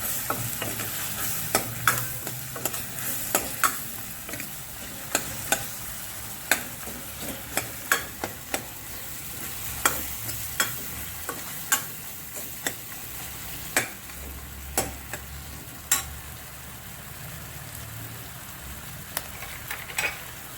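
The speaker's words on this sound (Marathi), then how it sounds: "ही काश्मीरी मिरची पावडर, टोमॅटो जरा चांगलं परतून घ्यायचे" Tomatoes with Kashmiri chilli powder sauté in a pan under a soft, steady sizzle, punctuated by regular sharp scrapes and taps of a spoon stirring against the pan.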